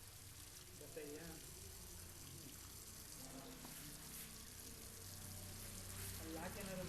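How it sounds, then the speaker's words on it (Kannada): Water pours steadily from a leaking pipe, a continuous broadband splash and hiss that holds at an even level throughout, with faint voices in the background. "ನೋಡಿ ನೀರು ಬಂತು, ಅಲ್ಲಿ ಬೀಳುತ್ತೆ ನೋಡಿ ಇವಾಗ ನೀರು"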